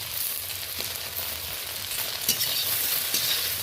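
Okra fries in a wok with a dense, continuous sizzle that stays loud and even, with a few soft scraping stirs near the end.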